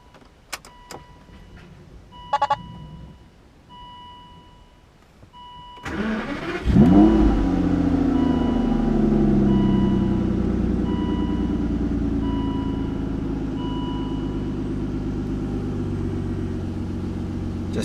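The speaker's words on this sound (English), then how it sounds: "Go ahead and start it up for you." An Aston Martin DB9 engine cranks and fires after a few chimes and clicks, then settles into a smooth, steady idle, close and loud, with no voices.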